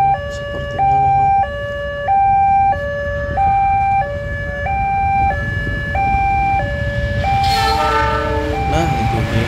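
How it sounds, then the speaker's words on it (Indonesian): A Kertajaya passenger train passes the Kedung Gedeh level crossing, with a loud two-tone crossing bell or siren alternating steadily throughout over the rumble of the train rolling by, and a brief horn-like burst near the end. "Ternyata lewat kereta jaya."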